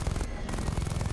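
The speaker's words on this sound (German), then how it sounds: "Wo kam der Schuss her?" Gunfire from a helicopter in the PC game Batman: Arkham Knight, a loud dense burst of shots mixed into the game's busy soundscape, with a brief drop partway through.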